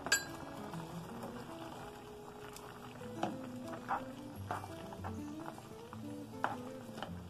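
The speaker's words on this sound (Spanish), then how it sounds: "Entonces vamos a echar la papa y revolvemos muy bien." Potatoes tip into a cooking pot and get stirred, giving light clinks and scraping knocks of a utensil against the pot at an irregular pace, fairly quiet with no talking.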